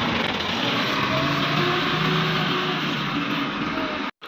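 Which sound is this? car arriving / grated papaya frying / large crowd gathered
car arriving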